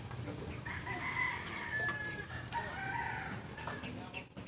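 A chicken crows at a construction site, a strained rising call heard twice amid clucking and busy outdoor background noise.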